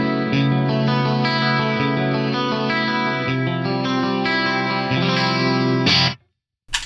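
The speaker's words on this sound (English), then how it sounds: "This should be the chorus." Electric guitar through a chorus effect plays sustained chords with a shimmering, wavering tone, loud and continuous for about six seconds before cutting off abruptly.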